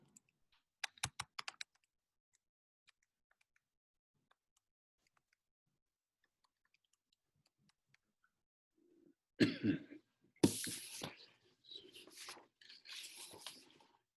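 A short quick run of keyboard taps on a computer opens the stretch, followed by long near-silence and then louder coughing and throat-clearing noises, no talk.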